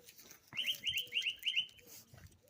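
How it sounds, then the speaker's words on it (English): A bird calls loudly in a quick repeated series of sharp, high chirps lasting about a second, with quiet background noise before and after. "loud bird."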